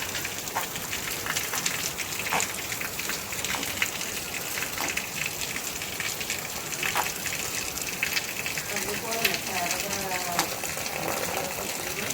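Steady rain pours down onto a hard surface, a continuous hiss with pattering drops, while voices speak faintly in the background.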